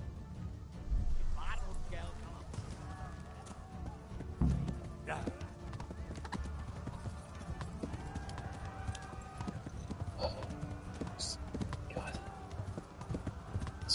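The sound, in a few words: horse galloping and neighing in video game Kingdom Come Deliverance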